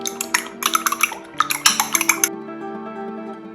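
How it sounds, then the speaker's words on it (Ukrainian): Rapid metallic clinking of a fork whisking milk and egg in a bowl, a quick rhythmic run of taps in a few bursts, then the clatter stops. "До молока додаю яйце. Та добре перемішую."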